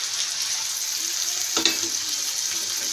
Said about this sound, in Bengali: মিডিয়াম লো আছে আমি মশলাটা কষাবো।